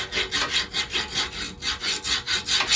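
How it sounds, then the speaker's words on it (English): A half-round file rasps debris out of a spring hanger on a 1997 Ford Ranger, about ten steady back-and-forth strokes in an even rhythm, close and fairly loud with no talking. "Get you a round file. This is half round. Get in there and clean it out."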